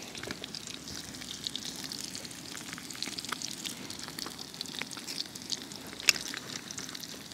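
Eggs fry in a pan seasoned with garlic, a steady, fine sizzle and crackle that holds at an even level throughout, close by with a few sharper pops.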